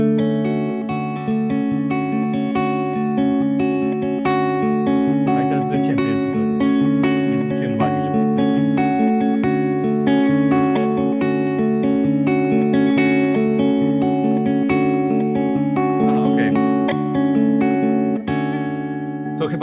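An SKG Little Wing electric guitar in white over sunburst, switched to its middle pickup, plays a continuous run of sustained, ringing notes and chords for about twenty seconds, loud and up close with a touch of effects.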